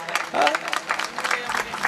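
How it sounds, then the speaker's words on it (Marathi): An audience applauds at a Marathi kirtan with a short burst of clapping that runs for the whole two seconds, while a voice carries on over it. "टाळ्या वाजवा त्यांच्याकरता एकदा."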